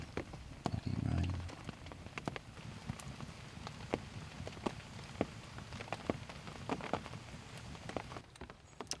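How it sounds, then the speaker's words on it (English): Rain falls lightly on a lavvu hot tent at a camp, scattered drop taps over a soft steady patter, faint and close, with a brief rustle near the start. "It's been raining on and off all night."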